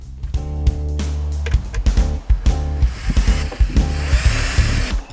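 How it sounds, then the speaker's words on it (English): A power drill driving screws to fix a thumb latch on a garden gate, loud close whirring in repeated short bursts that rise and stall against the wood, with no voices. "once it's lined up, screw it in place."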